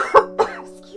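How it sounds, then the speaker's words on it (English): Two quick, close coughs sound in short succession, with a steady soft game music tone continuing underneath. "Coughing so much today"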